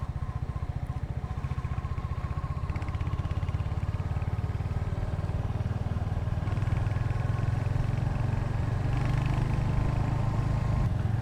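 Steady engine drone from three motorcycles, including a Hunter 350 and a CFMoto, riding in Purbachal throughout, a close, continuous low rumble with some wind noise, rising slightly in intensity toward the end.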